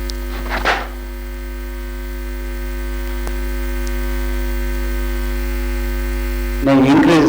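Room fans produce a steady, loud electrical hum with low droning tones that stays constant throughout, with brief faint voice sounds near the start and end.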